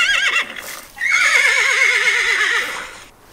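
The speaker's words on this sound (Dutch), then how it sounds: "we hebben dus de paardenhinnik app, heet Horse Sounds." A recorded horse whinny played from a phone sound app, loud and close, with a long wavering neigh rising and falling in pitch over about three seconds.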